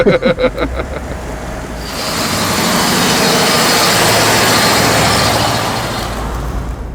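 A 1957 Mercury's engine fires up with a few sputtering beats, then settles into a loud, steady, low rumble at close range that fades slightly at the end.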